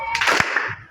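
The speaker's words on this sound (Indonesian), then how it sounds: "Tepuk tangan 2 kali." Hands clapping twice in a classroom, two quick sharp claps close by, with a faint voice afterward.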